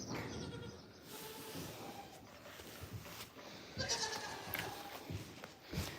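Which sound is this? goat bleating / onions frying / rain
goat bleating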